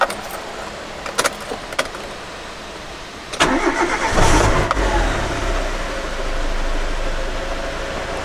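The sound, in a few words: car engine starting and idling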